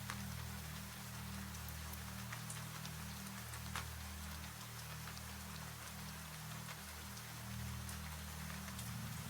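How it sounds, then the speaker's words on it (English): Steady rain falls in a continuous soft hiss with scattered droplet ticks, a low constant hum beneath it, even and unbroken throughout. "from somewhere on the other side comes the unmistakable sound of rain"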